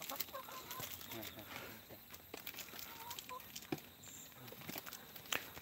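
Chickens cluck and call nearby as small scraps are tossed to them, with a rooster-like crow and scattered pecking sounds in a busy outdoor setting, where faint voices may be present.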